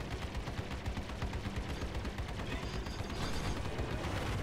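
Spaceship weapons in the video game Star Citizen fire in a dense, continuous barrage of rapid loud bursts that grows slightly heavier toward the end, with no talk over it.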